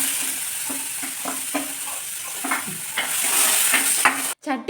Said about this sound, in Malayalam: പിന്നെ നമ്മുടെ ഇഞ്ചിയും വെളുത്തുള്ളിയും ചെറിയുള്ളിയും പേസ്റ്റും പച്ചമുളകും എല്ലാം കൂടെ ഇട്ടിട്ടൊന്ന് വഴറ്റാൻ വേണ്ടിയിട്ടാണ്.